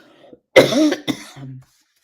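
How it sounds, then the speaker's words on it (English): A person coughs twice in quick succession, close up, followed by a short throaty sound, then silence. "I made myself cough."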